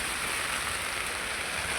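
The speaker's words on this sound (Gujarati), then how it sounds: "વરસાદ બહુ જ પડી જાય" Heavy rain pours down in a dense, steady hiss, loud and close, with no voices over it.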